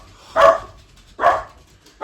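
Dog barking twice, loud and close, with a third bark starting at the end, each a sharp burst separated by short pauses, heard at a deadlift competition venue.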